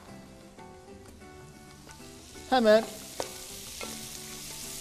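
Chopped peppers and tomatoes sauté in a hot pan alongside liver, giving a steady sizzle and frying hiss with occasional stirring scrapes; a short spoken word briefly rises over it.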